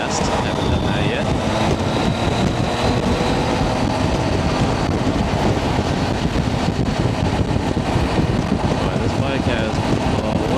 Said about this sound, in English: let's see how the mic picks up the noise while I'm riding at freeway speeds